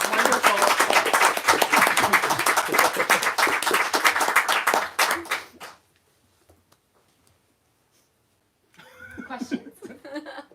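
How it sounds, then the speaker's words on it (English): A lecture audience gives a round of applause for an author, a loud, dense burst of clapping lasting several seconds that stops abruptly into silence before quieter laughter and voices return. "And round of applause for Matt and his wonderful."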